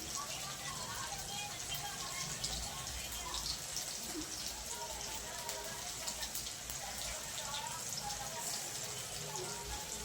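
Finely chopped dill greens are rinsed in a second change of water, giving a soft, continuous splashing and trickling that stays faint and even throughout with no speech.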